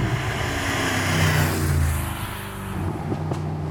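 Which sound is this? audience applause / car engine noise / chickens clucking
car engine noise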